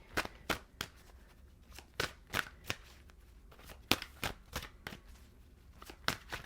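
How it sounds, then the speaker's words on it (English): Tarot cards are shuffled in a series of sharp, crisp riffles and taps, quiet and close, repeating at an uneven rhythm with little else around. "Let's shuffle."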